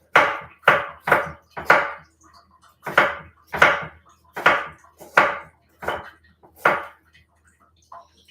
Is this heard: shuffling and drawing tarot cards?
no